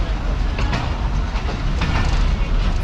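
Pakistan Express and Bolan Mail side by side at Kotri Junction, Pakistan, giving a steady loud rumble of rolling stock with faint rhythmic clatter and a few brief knocks, with voices talking underneath.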